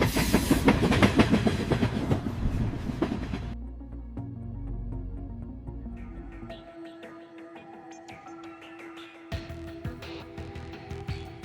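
A modern train rumbles across the 15-span Newbattle Viaduct with rhythmic clattering, then fades into a quieter hum with tonal rail sounds, heard at moderate distance.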